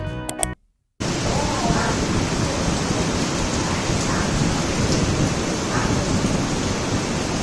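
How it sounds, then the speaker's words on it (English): Steady morning rain falls in a dense, even hiss that holds unbroken for several seconds after a brief noisy burst and a moment of silence at the start. "I started filming in the morning and it started raining."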